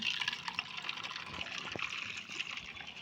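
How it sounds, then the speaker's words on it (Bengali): Dishes being washed under running water: a steady trickle and splash continues throughout with no pauses, close by and moderately loud. "এই যে বু এখানে বাসন মাজছে"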